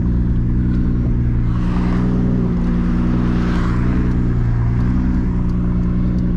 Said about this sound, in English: Really, really like the way this car sounds.